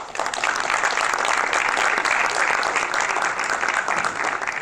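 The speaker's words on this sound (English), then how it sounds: "Can we have another round of applause for them?" An audience at a Board of Education public session gives a steady round of applause for athletes and coaches, dense, loud and sustained throughout.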